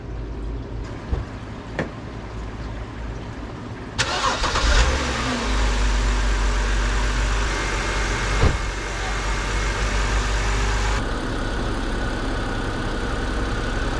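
A BMW 3 Series E90 engine cranks and catches after a spark plug replacement, then settles into a steady, loud idle close by, with a few clicks before it starts.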